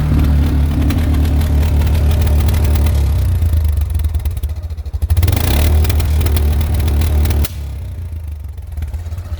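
An ATV engine revving hard in snowy blizzard conditions, loud and close throughout, with a steady low roar that surges and dips, briefly lightening mid-way before dropping to a lower idle near the end.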